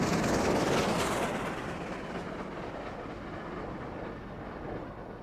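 A Spoornet-liveried 25NC steam locomotive, number 3441, storms out of Kraankale hauling a northbound freight train, giving a loud, close, rushing roar that eases slightly as steady rumbling and clanking wagons carry on.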